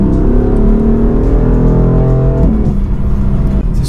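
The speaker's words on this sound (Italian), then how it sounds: "E si può capirlo già dando un po' di gas sull'acceleratore." A BMW M4's engine is blipped with the throttle, a loud close rev whose pitch climbs, holds and then drops away as the revs fall, with a rough exhaust burble underneath.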